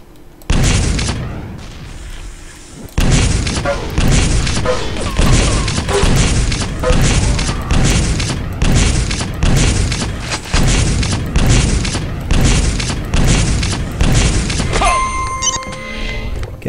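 Frag grenade blasts and rapid gunfire from a Black Ops 3 duel on the Lost World map, with dense loud booms and repeated impacts running almost continuously through the clip.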